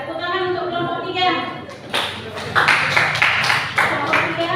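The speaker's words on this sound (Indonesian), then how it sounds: "Ya, tepuk tangan untuk kelompok 3." A classroom group of students applauds group 3 at the end of their presentation, a burst of clapping starting partway through after some talk, with sharp claps continuing to the end.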